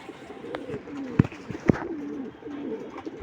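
Pigeons bathing coo and call softly on and off, with a couple of sharp splashy knocks in between, fairly close.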